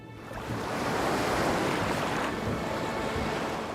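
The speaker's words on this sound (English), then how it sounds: "The parting of the waves." In an Avatar cartoon scene, waterbending parts the waves with a surging rush of surf that swells in after a quiet start and holds as a broad, steady wash of water and wind.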